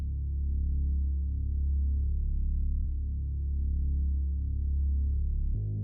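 A deep, gritty bass tone holds steady for several seconds, thick with distorted low harmonics, then cuts off abruptly at the end.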